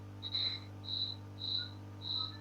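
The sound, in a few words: cricket chirping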